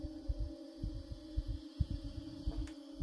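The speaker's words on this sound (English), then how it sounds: "this heartbeat in my ear hole is so annoying" In the video game Inside, a heartbeat sound effect thumps steadily in low, evenly paced double beats over a constant hum, with no talk.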